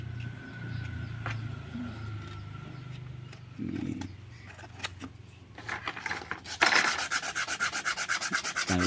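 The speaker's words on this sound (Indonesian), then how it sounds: "Kalau kurang bisa masuk ini diamplas saja ya" Hand sanding of a plywood box for a miniature 2-inch double CLA speaker: rough rubbing strokes, irregular at first, then fast, loud, rhythmic back-and-forth scraping close by, with no talking.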